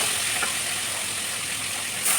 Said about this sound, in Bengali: ভালো করে ফ্রাই করে